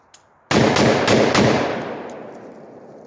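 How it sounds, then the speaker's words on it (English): A close, very loud burst of rapid rifle fire from a Palmetto PA-10 gen 3 rifle, several shots in quick succession followed by a long echoing decay. "Okay, so I'm gonna blast a couple rounds here."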